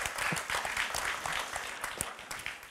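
Applause from a debate audience, a dense, fairly close burst of many people clapping at an even level for a few seconds without any voices.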